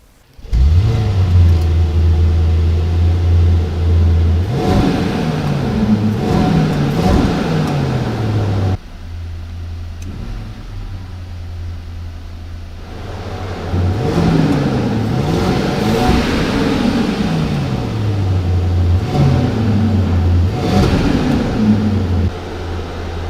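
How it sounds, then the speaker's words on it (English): A Mercedes-Maybach GLS engine cranks and catches, then idles with a steady low hum and is revved several times, the pitch rising and falling in strong swells. "So let's start the engine."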